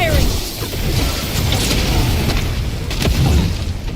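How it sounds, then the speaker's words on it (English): Gunfire and booming blasts in the video game Avowed, a steady barrage of loud explosive bursts and crackling shots filling the whole stretch, with voices faintly present. "Move! They're firing!"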